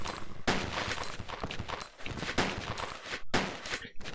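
A sentry gun in Resident Evil 2 fires at zombies in loud, rapid automatic bursts, broken by a few brief gaps.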